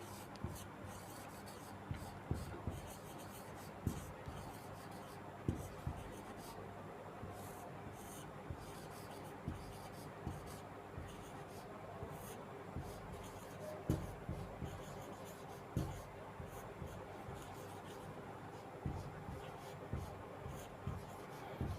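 A pen scratches out numbers by hand for a Vedic maths sum, giving soft, close strokes with regular taps throughout while a teacher's voice talks quietly underneath.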